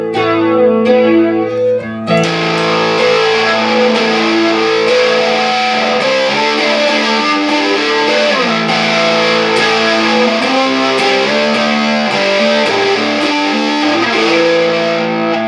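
Electric guitar run through a Boss BF-2 flanger set to heavy depth, sustained chords swirling with a deep, sweeping whoosh, loud and alone after a brief lighter passage.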